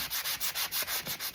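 A hand-held sanding block is pushed back and forth over a wooden hardware-aisle sign, making steady rhythmic rasping strokes, about eight close, even scrapes in quick succession with no voices.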